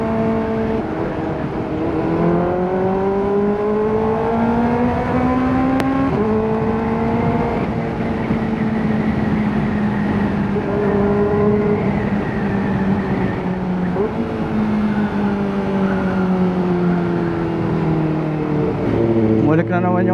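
A Kawasaki ZX4RR motorcycle engine, in for an oil change, drones loud and steady close by, its pitch climbing and sagging as the throttle is worked and revved over roughly twenty seconds.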